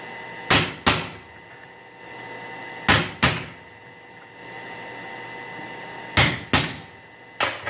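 A chisel cuts into wood while a leaf is being carved. Sharp, close knocks come in quick pairs, repeating every few seconds over a quiet steady background hum.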